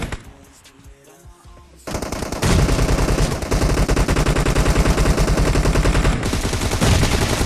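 Sustained automatic gunfire in the video game PUBG: a few sparse shots, then loud, dense rapid-fire bursts that continue almost without pause.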